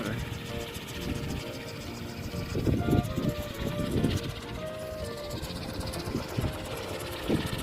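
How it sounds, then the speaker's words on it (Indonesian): A kolecer, a wooden wind propeller, spins on Gunung Kasur near Cipanas in Cianjur, making a continuous rattling, engine-like drone with rhythmic knocking. A voice talks briefly over it. "Baling-balingnya udah mulai muter"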